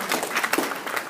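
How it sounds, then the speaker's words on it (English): Brief round of audience applause at a church teaching session on end times, a short burst of scattered clapping from a small group, moderately loud, lasting about a second. "Give her a round of applause."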